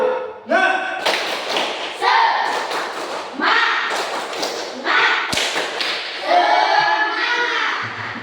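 A school class performs a rhythmic ice-breaker clapping chant, sharp claps and thumps in quick patterned bursts between loud chanted voices, close and lively.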